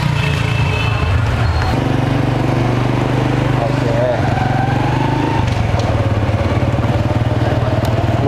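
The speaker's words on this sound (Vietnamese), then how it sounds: "Đi xe máy thôi." A motorbike engine drones loudly and steadily while riding, the pitch shifting as the throttle changes, with someone speaking over the engine noise.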